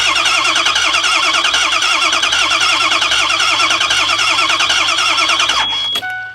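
A broken 6.0 Ford E350 diesel bus engine with no oil pressure cranks steadily, a loud rhythmic starter churn for about six seconds before it stops abruptly.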